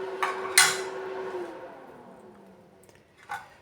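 Spoon clinks against a dish while turmeric, chilli powder, salt and garlic are mixed for a pumpkin and green gram dish, a few sharp taps and scrapes close by with quiet pauses between.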